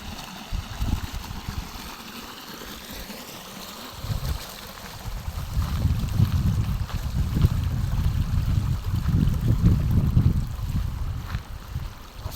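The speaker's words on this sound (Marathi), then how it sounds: "बघा पाणी आलं." Irrigation water running into a field channel on a farm, a steady gurgling flow with low rumbling turbulence that swells louder midway and stays strong to the end.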